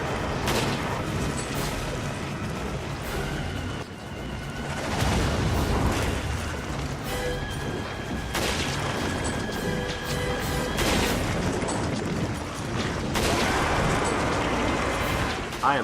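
Continuous shooting at a monster in Resident Evil 5, dense overlapping gunshots and heavy booms over a busy game soundscape, with voices talking underneath.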